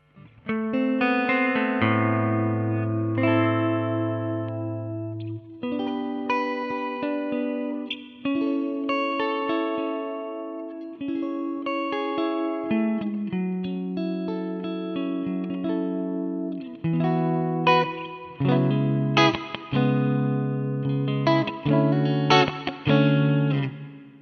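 An electric guitar played through a Mooer GE150 multi-effects processor with reverb, sustained chords and single notes ringing out with a lush wet tail, distorted and chorus-tinged, played alone for about twenty-four seconds.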